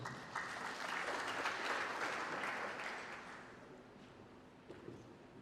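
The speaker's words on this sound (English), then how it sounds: "Please, a round of applause." An audience at a closeout ceremony breaks into applause, a dense wash of many hands clapping that swells early, holds steady and then gradually fades, heard from within the hall without any voices.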